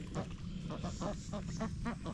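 Ducks quacking at a newly built backyard pond: a rapid, fairly loud run of short nasal quacks from nearby, repeating in an uneven rhythm with no talk.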